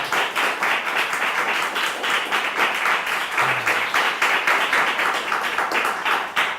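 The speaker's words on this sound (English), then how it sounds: "get a little round of applause for these wonderful people" Audience applause after an improv comedy performance, a dense steady wash of many hands clapping at moderate distance throughout, with no speech over it.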